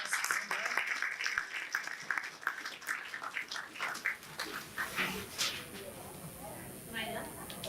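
A comic con crowd applauds a round of quick-draw cartoonists, with scattered clapping rising and thinning out while a voice talks over it.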